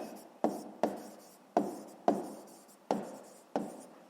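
A pen writes an answer by hand on paper during a sixth-grade math exercise, its strokes coming as six distinct, quiet scratching taps spaced irregularly and heard close up.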